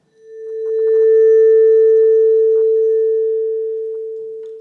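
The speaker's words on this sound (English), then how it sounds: "I'm using this double bass bow to produce a long note on the vibraphone, which sounds like this" A vibraphone bar bowed with a double bass bow swells into one long, pure sustained tone that holds steady and slowly fades, loud and close with nothing else around it.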